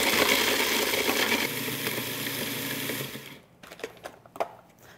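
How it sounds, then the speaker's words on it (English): A food processor grinds chocolate shortbread cookies into fine crumbs, whirring loudly and steadily for about three seconds before stopping, followed by faint rattles and clicks. "put them right into your food processor. We're just going to grind this up to a fine crumb"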